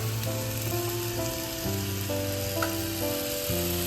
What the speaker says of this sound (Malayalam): നമുക്ക് സബോള ചേർത്ത് കൊടുക്കാം കേട്ടോ.